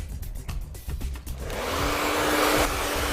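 A hair dryer switches on after a few soft handling noises and blows steadily, a loud, close whooshing roar that holds to the end.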